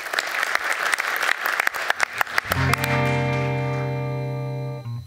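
An audience applauds a singer at a talk evening in Amsterdam, loud clapping for about two and a half seconds that gives way to a sustained, ringing electronic tone slowly fading out.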